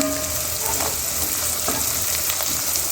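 Tomato paste sizzles and fries in a pan, giving a loud, continuous crackling hiss close up, with occasional stirring scrapes.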